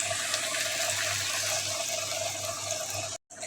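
Water pours steadily into a pot of browned bones and pumpkin, a continuous close splashing rush that runs alone and then cuts off briefly near the end.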